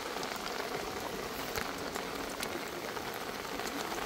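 Steady rain falls outdoors, a dense continuous patter on surfaces with occasional sharper drops. It stays at an even moderate level throughout, with no voices.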